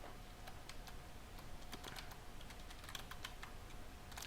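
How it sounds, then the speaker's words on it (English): Steady keyboard typing as credentials are entered at a computer, a run of quiet, irregular key clicks over a low background hum, with no talking. "So just typing my credential."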